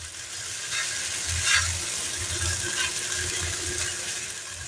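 Soaked sabudana being stirred in a pan over low flame gives a close, continuous wet sizzle and scraping, with a few louder swishes.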